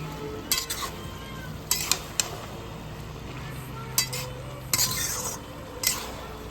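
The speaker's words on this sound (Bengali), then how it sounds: "এখন একটু নাড়া দেবো" Kochu loti (taro stolons) with prawns stirred in a pan, a spoon scraping and clinking against the metal in irregular bursts over a soft background sizzle, fairly close.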